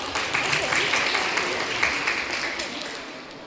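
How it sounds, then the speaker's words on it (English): Audience applause welcoming a guest, a content creator and social media influencer, at a school interhouse podcast competition on digital detox; a steady, dense wash of clapping held at even loudness across the whole stretch, with no voices standing out. "Let's welcome Kanika with a huge round of applause"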